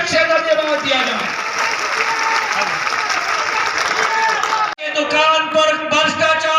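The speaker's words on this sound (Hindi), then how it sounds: "ताली की गड़गड़ाहट से धन्यवाद दिया जाए" Dense crowd applause at a BJP election rally in Ashok Nagar, continuous and loud, mixed with crowd noise, then cutting off abruptly as someone speaks over a public address system.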